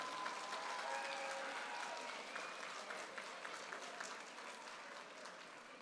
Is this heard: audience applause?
yes